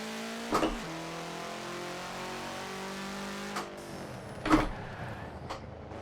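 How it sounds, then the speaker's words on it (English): In the Forza racing game, a car engine revs as the clutch is let out during a downshift, with a steady climbing engine tone and two sharp shift blips, clear and unaccompanied. "you very slowly let the clutch out. That way the RPMs very slowly rise."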